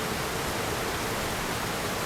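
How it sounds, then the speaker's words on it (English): Loud, dense rain in the video game Lost Odyssey, a constant broadband hiss with no breaks and no talk over it. "Like this rain. It's very loud rain."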